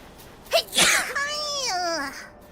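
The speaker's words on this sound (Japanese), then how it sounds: "待って、くしゃみ出そう。" A single sneeze with a short inhaled build-up followed by a sharp burst, then a drawn-out, wavering vocal tail, close and fairly loud.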